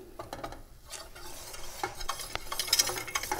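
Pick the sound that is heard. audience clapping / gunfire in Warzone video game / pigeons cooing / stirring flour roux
stirring flour roux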